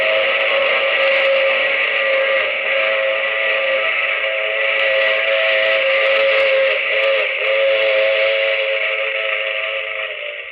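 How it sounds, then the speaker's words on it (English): A steam train whistle sounds as a sustained, loud, chord-like wail lasting about ten seconds, with a faint rumbling rail noise beneath. It tapers slightly at the end, in a vintage radio drama sound effect. "I take this same train every week at this same time."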